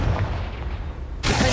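A Confringo blasting spell goes off in the Hogwarts Legacy video game, a sudden loud, broad explosive burst that hits near the end after a stretch of muffled, rumbling combat noise.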